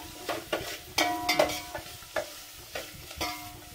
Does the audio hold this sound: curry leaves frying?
yes